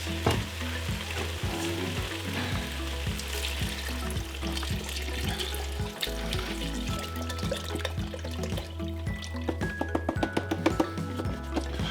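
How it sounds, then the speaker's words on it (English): Vegetables and caramelized onions sizzling in a pot for beef barley soup, a loud, steady frying hiss with rhythmic stirring and scraping throughout and a few sharp clinks near the end. "Our vegetables have been cooking now, probably another 5-10 minutes."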